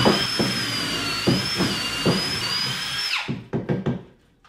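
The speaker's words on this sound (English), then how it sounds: "I found it's easiest to go with a 1/8 inch drill bit countersunk all the way through the edge" A power drill with a 1/8 inch bit whines at a high pitch for about three seconds as it bores through a wooden window screen frame, then several short bursts of drilling follow before it stops.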